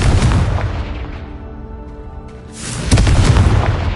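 A Confringo fire spell bursts in Hogwarts Legacy with a loud, deep boom. The blast fades to a rumbling tail, and a second heavy boom hits near the end.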